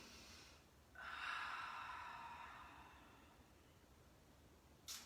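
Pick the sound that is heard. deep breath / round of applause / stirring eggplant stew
deep breath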